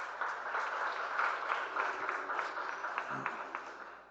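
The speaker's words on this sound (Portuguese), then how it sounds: "Dê um aplauso bem forte ao Senhor." A church congregation claps during a sermon, a fairly faint, even spread of many hands heard at a distance for several seconds, with no voices over it.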